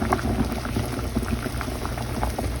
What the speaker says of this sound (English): We're boiling a pot of water here